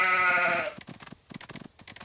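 A cartoon sheep bleats once in a loud, wavering cry in the Paw Patrol Academy kids' video game, followed by soft, scattered game sounds.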